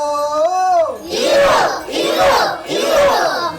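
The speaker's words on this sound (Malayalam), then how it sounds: "ഐശ്വര്യത്തിനായി പൂപ്പാട്ടുകളും ആർപ്പുവിളികളും ഉച്ചത്തിൽ മുഴങ്ങും" Festive Onam shouts at a traditional Thrikkakarappan celebration: a single drawn-out sung call leads into three loud, rhythmic group shouts from a crowd, close and energetic.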